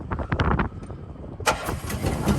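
A water truck engine cranks with choke and throttle pulled, several rapid starter bursts, then catches and settles into a rough, close running rumble.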